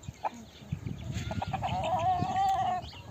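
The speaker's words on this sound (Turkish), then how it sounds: "O mavi mavi yumurtanın horozu." Rooster on a farm in rural Turkey, clucking and calling in short repeated bursts that build into a longer sustained call, with scratching and rustling noises underneath, moderately close.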